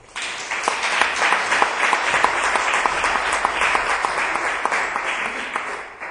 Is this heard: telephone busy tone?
no